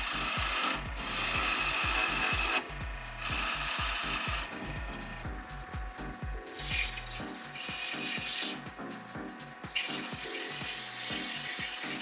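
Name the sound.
sanding an apple wood bowl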